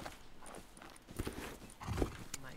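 Horse hooves clip-clop in a video game, a few uneven steps with a brief whinny-like burst near the end, heard fairly close over a soft background bed.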